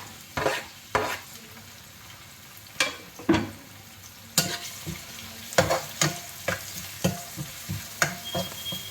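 Chopped chillies and tomato frying with mutton liver in a pan, a steady sizzle under repeated rhythmic scrapes and clacks of a spoon stirring against the metal.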